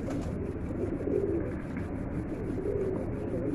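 A pigeon coos softly in low, repeated murmurs over a steady, noisy background, with no voices.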